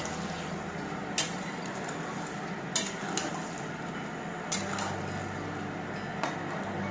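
A chilli chicken mixture being stirred in a pot after hot water is added, a quiet steady bubbling bed broken by periodic clinks of a spoon against the metal.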